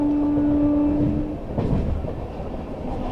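The Delhi Pathankot Superfast Express runs fast on rails near Delhi on a cold winter day: a steady, loud rumble and rattle of the carriages with a sustained tonal hum that fades partway through. Nobody speaks.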